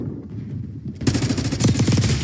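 Video game gunfire: quiet game ambience, then a sudden loud burst of rapid automatic shots that keeps rattling to the end.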